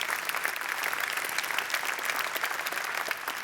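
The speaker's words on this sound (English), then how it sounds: "Round of applause for Mary, please." A conference keynote audience claps for a speaker, dense steady applause filling the room from start to finish with no voices over it.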